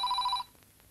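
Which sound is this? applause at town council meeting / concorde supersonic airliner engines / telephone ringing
telephone ringing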